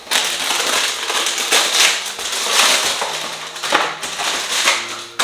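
A part being taken out of a Tassimo coffee machine, giving close, irregular plastic clatters, scrapes and knocks that come in short bursts with no talking.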